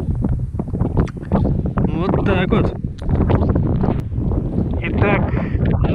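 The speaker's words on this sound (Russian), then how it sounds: "Итак, на Руси сегодня крайне ветрено." Strong wind buffets a microphone out on an open field, a loud rough rumbling roar that rises and falls in gusts under a man's continuous speech.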